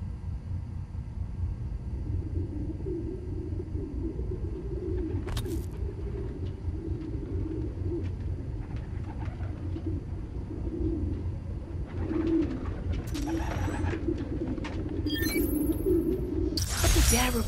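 Recorded pigeons coo in a park in Marvel's Spider-Man: Miles Morales, soft low murmuring calls over steady traffic rumble, with a few brief sharp clicks and jangles.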